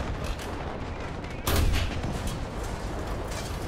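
A War Thunder tank battle: a tank round strikes an enemy tank's ammo rack, giving one loud, sharp blast over steady engine and battle rumble, then a rolling low rumble as it fades.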